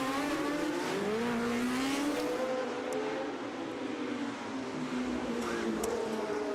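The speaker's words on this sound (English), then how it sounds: "There is the Lotus 72, number 2, on your screens at the moment" Historic Lotus 72 Formula One car, number 2, racing at Monaco, its loud engine screaming continuously with shifting pitch as it accelerates, joined by other engines and a brief squeal of tyres.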